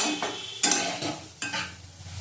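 A spoon stirs fried potatoes in a pan in a few quick scraping strokes over a steady close sizzle, with no voices.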